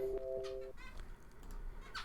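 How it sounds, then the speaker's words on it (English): Short bird calls and chirps, some sounding like clucking, come in bursts against a quiet indoor background at Knott's Berry Farm. "you can hear the birds over here."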